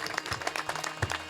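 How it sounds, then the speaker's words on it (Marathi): An audience at a Marathi kirtan claps in loose, scattered bursts of sharp individual claps, moderately close, over a low steady hum from the hall. "आपण सगळ्यांनी मनापासून टाळी वाजवायची"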